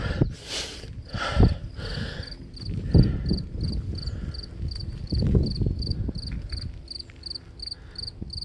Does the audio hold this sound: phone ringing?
no